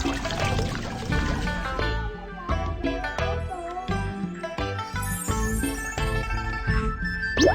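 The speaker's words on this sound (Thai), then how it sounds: "เทน้ำใส่ชาม" Game-like sound effects of water pouring into a bowl in a baby panda cooking game, layered with bright chimes and tinkling tones and a busy musical backdrop.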